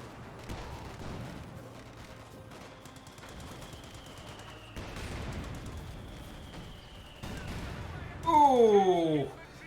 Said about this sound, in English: That mortar pit getting some great hits, wipes out the Volksgrenadier.